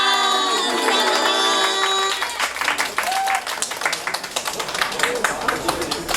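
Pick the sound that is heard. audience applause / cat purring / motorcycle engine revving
audience applause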